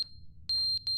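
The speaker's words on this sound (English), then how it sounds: "Oh, the fucking batteries on the fire alarm are out." Low-battery chirp from a smoke alarm in The Stanley Parable: Ultra Deluxe, a short, high electronic beep that repeats several times at close range, loud against a quiet background.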